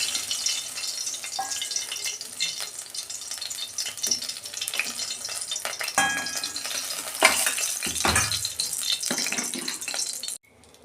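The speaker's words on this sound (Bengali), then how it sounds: "এই যে আর 2টো মাছ ভেজে নিচ্ছি" Pabda fish frying in a pan, with a crackling sizzle and scattered spits and clinks close by, ending in a sudden cut to quiet as a lid goes on; no voices.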